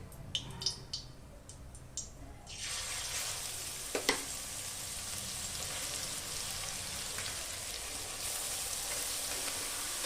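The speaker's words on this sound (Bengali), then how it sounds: "গাজরটা দেওয়ার পর আমি খুব ভালো করে ঘিয়ের সঙ্গে গাজরটাকে আমি ভেজে নেব" Carrots go into hot melted ghee in a pan after a few light clinks, and a loud, steady sizzle of frying starts and keeps going close by.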